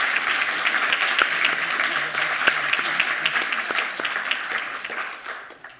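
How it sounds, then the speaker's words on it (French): Audience applauding an award winner at a pedestrian and cycling awards ceremony, a moderate indoor clapping of individual sharp claps that gradually fades toward the end. "on peut déjà effectivement l'applaudir"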